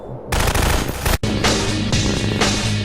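An APC's mounted gun fires at distant enemies in a video game. The bursts are loud, fast and continuous, with a brief break before the rapid fire resumes close up.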